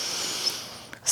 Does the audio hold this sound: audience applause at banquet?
no